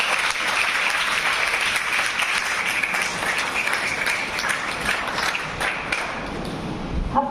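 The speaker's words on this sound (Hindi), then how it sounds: "सुपर हीरो के लिए एक बार जोरदार तालियां।" An audience claps loudly and continuously at an education college lecture on life's superheroes, a dense, sustained wash of applause with a few sharper claps near the end.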